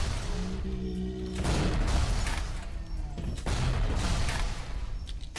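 Specialty grenades exploding in BioShock, with several loud, close bursts and crashes over dense game noise.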